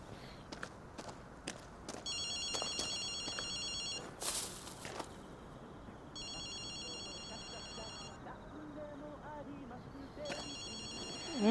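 A payphone rings in the video game Ghostwire Tokyo with bright repeated electronic trills in three bursts, alongside footsteps and scattered clicks; a voice speaks briefly near the end.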